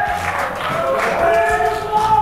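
Crowd applauding and cheering a diver at a belly-flop contest, a continuous roar of voices and clapping with some rising shouts, loud and sustained.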